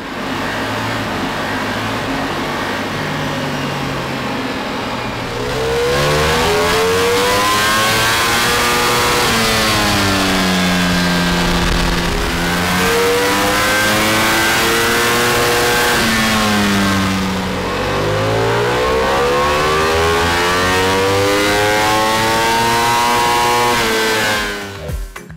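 Ducati Multistrada V4 RS Euro 5 motorcycle with a stage one ECU remap, revved on a dyno through two long, loud sweeping pulls that climb and fall in pitch, close by, with no talking.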